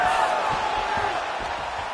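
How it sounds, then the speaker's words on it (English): A video game arena crowd in UFC 5 roars in a sustained, loud swell of cheering, with a commentator-like voice faintly mixed underneath. "Oh, crowd pops as she reverses position."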